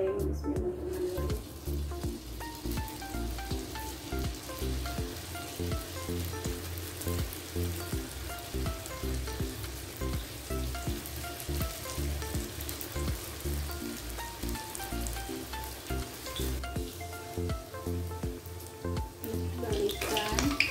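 Spicy-sweet spring rolls (lumpia) fry in hot oil with a steady, close, crackling sizzle that runs on without a break, while faint background sounds sit underneath.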